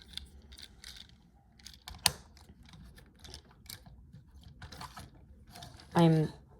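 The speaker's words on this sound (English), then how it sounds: "The knee is actually partially ratcheted, which is interesting." A Target-exclusive Optimus Prime toy figure has its partially ratcheted plastic knee worked, giving faint mechanical clicks amid handling noise, with one sharp snap midway and a brief louder grinding burst near the end.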